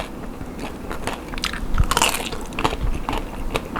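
Biting into crunchy roast suckling pig produces crisp, crackling bites and chewing crunches close up, repeating irregularly with no voices.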